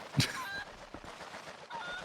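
Cucco chicken in Zelda: Twilight Princess giving a sharp squawk when picked up, one loud burst followed by quieter game sounds.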